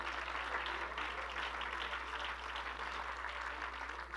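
A church congregation applauds in a dense, continuous wash of clapping, steady and moderately loud throughout, with a low hum beneath.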